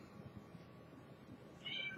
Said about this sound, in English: My cat's not very happy, if you can hear her in the background